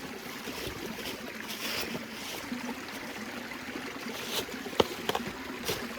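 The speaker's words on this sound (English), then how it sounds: "now we'll give this a quick wash in the stream" Headless fish are rinsed in a mountain stream, with running water rushing steadily nearby and occasional splashes and sloshes that grow more distinct toward the end.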